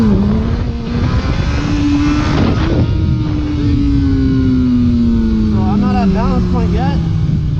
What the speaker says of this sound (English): I'm gonna give it gas, pull in the clutch, and release the clutch.